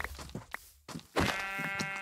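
A sheep in the Minecraft Sevtech Ages video game bleats in a couple of short, close calls, the last one drawn out and loud, with brief game noises before it.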